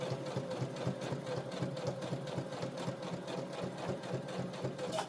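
A Brother CS7000X sewing machine stitching a bucket hat, running steadily up close with a fast, even rhythmic needle chatter and motor whir throughout, no voices.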